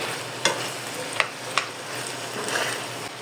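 Menudo with oyster sauce is stirred in a hot pan, a soft steady sizzle broken by a few sharp clacks of the utensil against the pan, close up and without speech.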